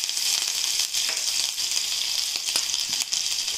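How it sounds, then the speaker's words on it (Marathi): Ginger garlic paste sizzles in hot oil in a frying pan, a close, continuous crackling fry with small pops and no voices. "आता मी एका फ्रायपॅनमध्ये 3 मोठे चमचे तेल गरम केलेलं आहे। ह्याच्यामध्ये मी आलं लसणाची पेस्ट टाकते थोडीशी"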